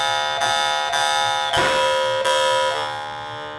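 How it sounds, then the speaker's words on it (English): A harmonica holds a steady chord while a bright, piercing bell-like ring sounds out clearly, a few sharp accents punctuating the sustained tone; a Glazyrin Alpha harmonica. "Very clear, loud, piercing bell ring."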